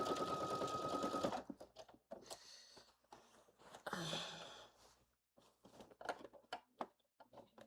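Sewing machine stitching around a blazer sleeve from Simplicity pattern 9825, a short close whir at the start followed by scattered quiet handling noises, soft breaths and creaks.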